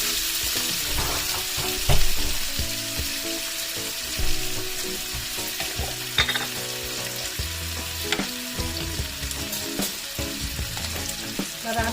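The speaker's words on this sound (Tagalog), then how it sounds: "Magigisa naman ako ngayon ng sibuyas at bawang." Onion and garlic sautéing in a hot pan, a steady loud sizzle with occasional stirring scrapes and clinks, close and continuous without talk.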